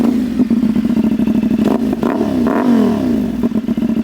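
A CFMOTO 450SS motorcycle fitted with a KO Lightning slip-on exhaust idles with a loud, close crackling burble, then revs up several times in quick blips that rise and fall in pitch before settling back.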